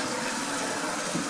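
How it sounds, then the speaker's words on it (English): Water rushes steadily into a Toto toilet tank as it refills, a close, continuous hiss and gurgle that stays loud and even throughout. "Water coming in there."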